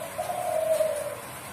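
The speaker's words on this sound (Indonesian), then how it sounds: "dek dan ku terdengar jelas, itu sudah bisa mendapatkan nilai maksimal" A contest dove coos in a sustained, clear call with distinct dek and ku notes, steady and fairly loud with no talking over it.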